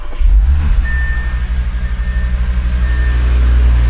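An Audi RS3 8Y's exhaust on factory mid pipes rumbles loudly at close range with a deep, throbbing low drone, pulsing slightly as the engine idles and revs gently.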